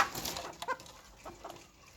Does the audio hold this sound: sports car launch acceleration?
no